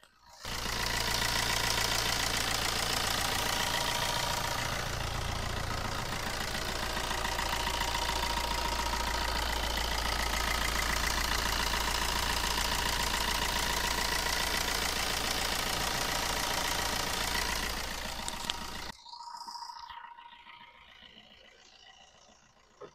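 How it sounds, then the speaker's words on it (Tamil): A 2014 Fiat Punto Evo diesel engine idles close to the microphone with a steady, slightly knocking rumble for about nineteen seconds before cutting away to quieter background noise. "இப்போ வண்டியோட இன்ஜின் நாய்ஸ் நான் உங்களுக்கு மைக்கு பக்கத்தில் வச்சு எப்படி இருக்குன்றதை காட்டுறேன்"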